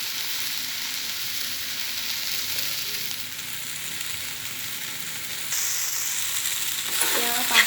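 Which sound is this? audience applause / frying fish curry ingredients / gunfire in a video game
frying fish curry ingredients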